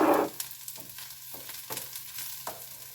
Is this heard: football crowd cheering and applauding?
no